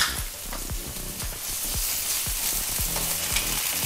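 Ginger garlic paste frying in a pan for paneer pepper masala, giving a loud, steady, close sizzle with soft low thuds of stirring every half second or so.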